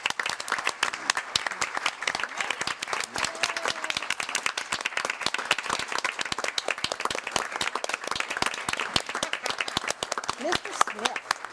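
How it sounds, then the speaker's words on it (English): Council meeting chamber audience breaking into sustained applause and a standing ovation, dense steady clapping from many people throughout, fairly close and loud, with some voices mixed in. "This was just an ovation."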